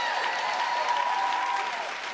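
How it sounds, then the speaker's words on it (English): A crowd at a high school graduation ceremony claps steadily for a couple of seconds, a dense, even wash of applause. "Let's give ourselves a big round of applause for being here tonight."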